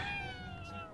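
A cat in the video game Ghostwire: Tokyo gives a single drawn-out meow lasting about a second, with steady tonal harmonics over a low game ambience and no voices.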